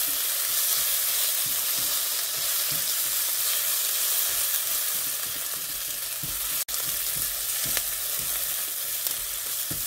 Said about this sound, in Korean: 고춧가루가 타지 않게 잘 저어주세요.